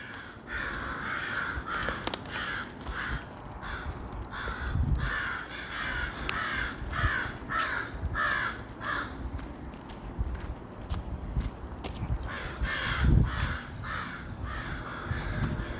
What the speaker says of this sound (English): Bro, those crows must be crazy.